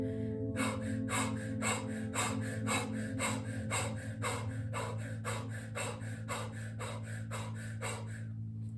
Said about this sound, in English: we're going to use the breath of fire